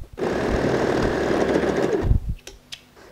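Sewing machine stitching a dart on a handbag, a rapid steady whir of stitching for about two seconds, then a stop followed by a few faint clicks and handling sounds.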